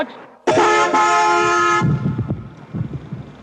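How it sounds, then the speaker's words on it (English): A car horn blasts a single long, loud toot on a 1970s Toronto street, sounding close by, then cuts off into traffic rumble and street noise. "That person was honking."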